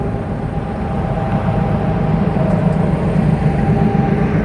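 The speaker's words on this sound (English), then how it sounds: "Lots of trucks." Heavy trucks pass through a Montana highway rest area, producing a continuous loud, low rumble with broad road noise and no pauses.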